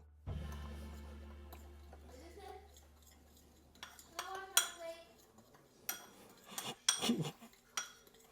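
Curry fried rice being mixed with metal utensils, giving scattered clinks and scrapes against a bowl that grow into a busier clatter of clanks and stirring, with brief speech in between.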